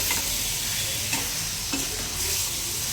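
Potato curry being stirred in a hot pan, an even frying sizzle with a few distinct spoon scrapes and knocks at roughly half-second intervals, close and unaccompanied by talk.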